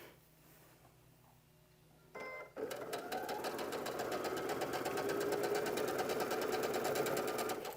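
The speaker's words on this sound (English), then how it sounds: "this one goes on top and I sew" Sewing machine chain piecing quilt fabric, starting after a short quiet pause and then running steadily with a dense, rapid needle rhythm, close and loud, continuing without interruption.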